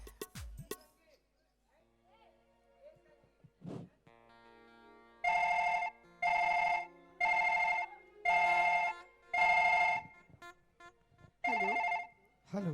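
An electronic telephone ring during a Chhattisgarhi nacha stage comedy performance: a short, repeating trill sounds in about six evenly spaced bursts, loud and close, after a brief spoken stretch and some faint background sounds.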